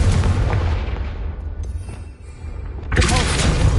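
The Confringo fire spell blasts in Hogwarts Legacy, a loud roaring explosion that rumbles for over a second, dips, then a second sharp burst hits.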